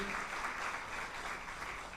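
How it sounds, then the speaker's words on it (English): Faint, distant applause from an audience at a Foundation Day ceremony, a steady wash of clapping heard from across a large room. "we should give a big round of applause to him"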